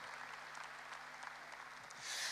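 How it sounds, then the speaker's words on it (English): Audience applause for the Giants of Africa organization at an International Youth Day event, a steady wash of clapping that swells louder toward the end. "another big, resounding round of applause for this unbelievable organization"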